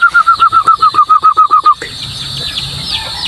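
Native katitik chickens, two-month-old siblings out on a free range, give a quick run of about a dozen short, bright chirps in steady rhythm for under two seconds, then fall away into quieter outdoor background.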